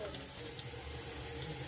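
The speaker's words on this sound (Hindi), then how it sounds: "फ्राई में हमने तेल डाल दिया, देखिए तेल हमारा हो गया। अब इसमें हम प्याज डाल दे रहे हैं।" Chopped onions frying in hot oil in a pan as a vegetable dish is cooked, a steady, quiet, dense sizzle that holds evenly throughout with no talking.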